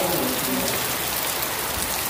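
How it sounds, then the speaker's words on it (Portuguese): Steady rain pours down in the Bahia backlands, a dense, even hiss of drops on surfaces filling the short stretch with no voices. "A chuva chegou"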